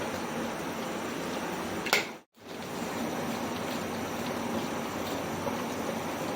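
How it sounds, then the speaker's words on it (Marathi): Hot water pours into a pot of curry, a steady, close rushing splash that cuts out briefly near the middle and then carries on, with no one talking. "गरम पाणी टाकायचं."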